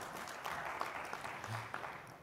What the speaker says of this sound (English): Please a nice round of applause for Tomi